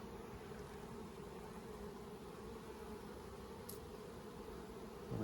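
Bees swarm over the comb cells of a hive in a low, continuous drone, close and steady, with a thin high whine faint in the background.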